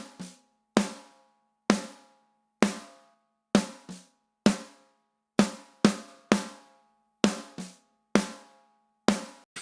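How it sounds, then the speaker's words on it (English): Sampled snare drum processed by a compressor set to its slowest attack and fastest release, about a dozen sharp isolated hits at a steady pace, each with a snappy crack and quick decay, played alone and fairly quiet. "So we've got as slow as you can attack, fast as you can release. And that makes our snare sound like this."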